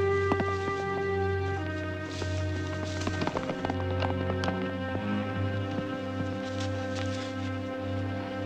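Ponies' hooves clip-clop in a rapid, irregular patter of sharp taps over a sustained musical drone and strings, moderately loud, with no talk.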